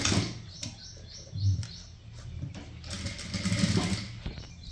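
A sewing machine stitches an aari blouse in a tailoring setting, running in short uneven bursts at moderate loudness with a light high-pitched chatter and no talk.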